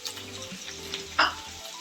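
Cumin seeds, ginger, garlic, chili and chopped onion sizzle in a hot pan, a steady close frying hiss with a brief louder spit as ingredients hit the oil.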